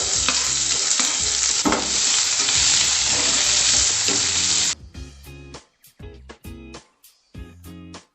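Onion hits hot oil with cumin, pepper, fenugreek and curry leaves for sambar rice, raising a loud, dense sizzle with stirring clatter. The sizzle cuts off abruptly partway through, leaving a run of separate, sharp utensil knocks and scrapes.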